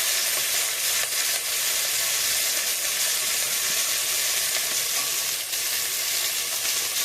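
Spices with turmeric and salt fry in a hot pan, a loud continuous sizzle with occasional stirring scrapes and bursts of hiss, close and steady with no talking.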